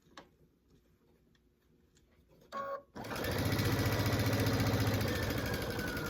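After a quiet stretch with a brief clatter, a sewing machine starts stitching quilt binding strips, its motor humming loudly and steadily for the last three seconds.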